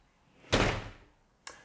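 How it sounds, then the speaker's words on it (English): A glass shower door in a small cedar-ceilinged bathroom of a tiny home swings shut with one loud thud, then a short, fainter knock follows a second later. "And we have a nice glass door like that."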